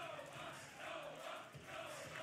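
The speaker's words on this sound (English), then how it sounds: "that one little hand gesture just got a chant" Wrestling crowd at a women's GFW Championship match, chanting in swelling rhythmic waves that rise and fall across the arena, a dense roar of many distant voices with no talk over it.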